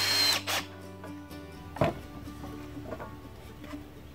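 Power drill driving screws into the legs of a garden table built from wooden pallets, with short whirring bursts at the start and middle between quieter gaps, plus light clatter of the workpiece, close by.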